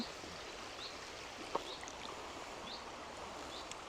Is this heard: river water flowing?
yes